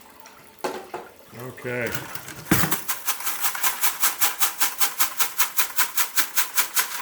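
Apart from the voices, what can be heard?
pay dirt dumped into a classifier over a bucket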